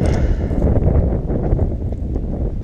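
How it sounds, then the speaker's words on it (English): Strong outdoor wind buffets the microphone throughout, a steady low roaring rumble while hay bales are strapped down under open sky, with no clear talk over it. "It always has to be fucking windy when we do this."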